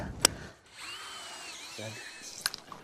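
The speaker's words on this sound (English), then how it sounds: "I dig my ledge down with my hammer, drill straight back" A power drill bores straight back into baked, hard Texas ground to set a trap bed, its motor whining in a long sustained run between sharp metallic knocks at the start and end, close by and without talk.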